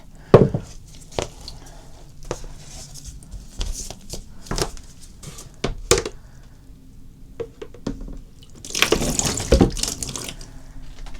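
Water from a shower splashes over a large box lid as soap bubbles are rinsed away, with intermittent knocks and clatters of the lid being handled, then a louder rushing spray near the end; no talking.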